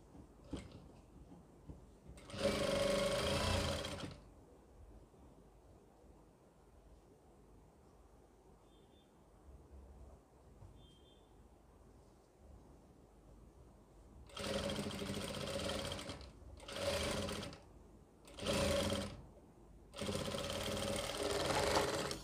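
A sewing machine stitches an Afghani salwar in short bursts: one run early, then after a long quiet stretch several quick stitching runs in a row, close and fairly loud against a hushed room.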